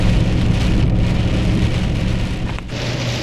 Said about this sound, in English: So as you see, we're still dealing with the rain.